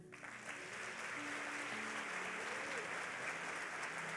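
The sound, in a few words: church congregation applauding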